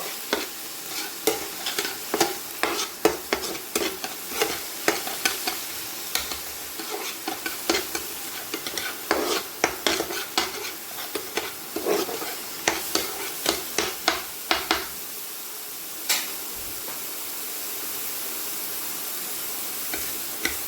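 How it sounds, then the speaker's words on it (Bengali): Egg curry with tomato paste is stirred in a pan, a constant sizzle under irregular clicks and scrapes of a spatula, busy at first, then easing to a quieter simmer near the end. "টমেটো বাটাটা দিয়েও নাড়াচাড়া করে নেব"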